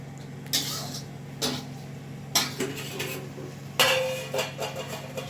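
Cauliflower curry is stirred in a metal pot and the lid is handled, producing several sharp, separate metallic clanks and scrapes over a faint, steady background hum.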